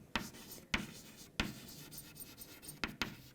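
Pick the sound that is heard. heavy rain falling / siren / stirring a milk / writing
writing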